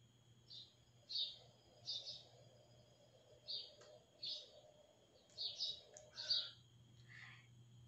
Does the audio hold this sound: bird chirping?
yes